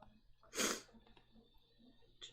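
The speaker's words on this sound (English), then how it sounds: "I had to sneeze." A single sharp sneeze bursts out close to the microphone, brief and explosive, set against quiet room background with faint breathing afterward.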